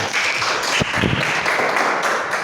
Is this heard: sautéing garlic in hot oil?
no